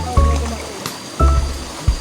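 Water flows and splashes over rocks in a shallow stream at night, heard near and moderately loud while people gather shore crabs and snails, with a few short bursts of voices over the steady wash.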